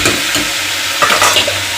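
Garlic, chili and onion sizzle in hot oil for a tempering, with close, loud frying crackle and brief stirring scrapes throughout.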